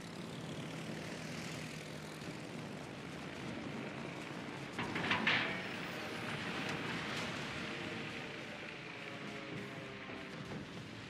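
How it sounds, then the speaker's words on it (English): Small propeller float planes droning steadily in a World of Warships naval battle, a broad continuous engine hum with a brief louder swell midway, alone with no talking. "Little float planes."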